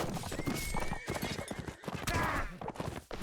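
Horse hooves clip-clop in a Mount & Blade battle, with steady rapid hoofbeats and horse whinnies under continuous game noise and clashing throughout.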